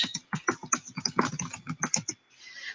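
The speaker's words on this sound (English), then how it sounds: "Let me write Dee a quick little note." Fingers tap out a short note on a computer keyboard, a quick, uneven run of close, crisp key clicks that ends in a softer wash of sound.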